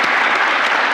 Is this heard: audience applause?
yes